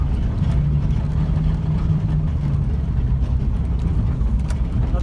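A Suzuki Carry mini truck fitted with Camso tracks drives over frozen solid ground, its steady low engine drone and track rumble continuous and close, with a constant vibrating roar and no talk.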